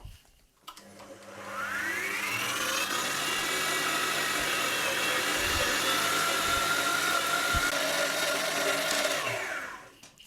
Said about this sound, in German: So, den Fleischwolf habe ich zusammengebaut.